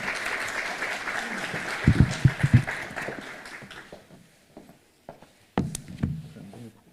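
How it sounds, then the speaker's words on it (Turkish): An audience at a presentation meeting applauds to welcome a speaker to the stage, a moderate wave of clapping that thins out and fades, followed by a few bumps and nearby talk. "alkışlarınızla sahneye davet etmek istiyorum"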